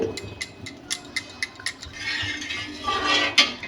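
An egg and cornflour are beaten together in a bowl with a utensil for egg soup. A quick run of light, rhythmic metallic clinks gives way to a steadier swishing, scraping stir.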